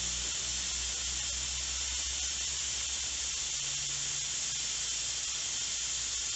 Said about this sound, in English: we're letting the steam escape from the pressure cooker